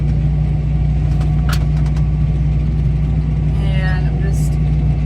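Heavy vehicle engine, likely a tractor, idling low and steady as it eases slowly onto a silage pile in Nebraska, loud and close with a constant deep drone, a few faint knocks and a soft squeal near the end.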